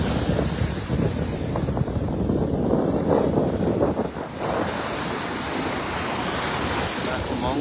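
Steady wind buffets the microphone while waves wash and surge along a seashore, loud and continuous throughout with no clear speech.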